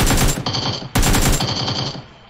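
Automatic gunfire from a gun in the video game PUBG, rapid steady bursts of shots in two loud sustained volleys with a brief pause between, close and alone with no talk.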